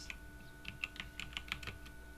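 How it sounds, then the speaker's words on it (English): Quick, uneven keystrokes on a computer keyboard, about a dozen light clicks spread over two seconds, close and clear with no talking. "Oh yeah, I'm typing wrong."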